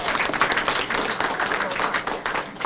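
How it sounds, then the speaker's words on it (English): Audience applause at a city council committee announcement on gun violence prevention: brisk, continuous clapping from a crowd, fairly close and loud throughout. "Let's give her a round of applause as well."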